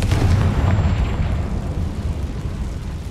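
A fire spell explosion from the Hogwarts Legacy video game, a loud booming blast with heavy low rumble at the start that decays into a sustained roar, no talking.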